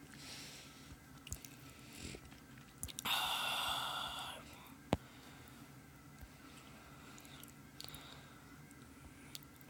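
A person chews food close to the microphone with soft, wet squishing bites and one louder crunchy burst, heard over a quiet background hum while playing Geometry Dash Lite.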